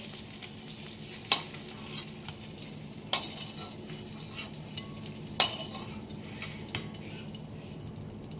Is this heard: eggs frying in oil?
yes